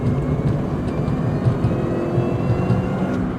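A 2000s R53 MINI Cooper S with a 17% smaller supercharger pulley and an upgraded intercooler runs with a steady engine drone and a faint high supercharger whine layered on top, heard continuously from close by without voices.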